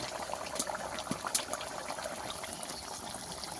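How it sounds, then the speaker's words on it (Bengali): Fish curry gravy with silver carp and catla bubbles in a pot, a steady low simmering burble with scattered small pops and bursts throughout, no voices. "ভালো করে ঝোলটা ফুটিয়ে নিতে হবে"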